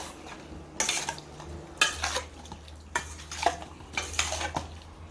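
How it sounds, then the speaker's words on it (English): Chicken chow mein is stirred in a pan, giving five or six rhythmic bursts of utensil scraping and clattering against the metal over a soft background, with no voices. "I'm going to give this a mix."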